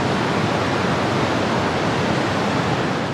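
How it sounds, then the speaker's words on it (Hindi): Water of the Saraswati river rushes steadily, a loud, dense, unbroken hiss and roar of flowing water close by, with no voices. "दूसरी कहानी को सुनने से पहले आप सरस्वती नदी की आवाज़ सुन लीजिए"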